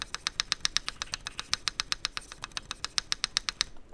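Rapid, even keystrokes on a mechanical keyboard being tested for stabilizer rattle, a steady run of crisp clicky taps close up, then stopping abruptly near the end.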